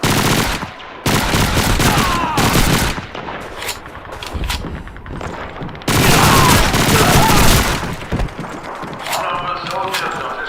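Wartime combat in Call of Duty 2 erupts with dense, loud bursts of rifle and machine-gun fire, rapid volleys broken by brief pauses, with shouting voices mixed in.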